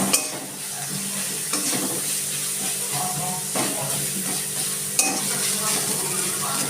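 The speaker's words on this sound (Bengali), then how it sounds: "আমি অল্প একটু পেঁয়াজ ভেজে নিচ্ছি" Onions with salt and turmeric sizzle in a pan while being stirred, a steady frying hiss broken by scraping spatula strokes at irregular intervals, close and fairly loud.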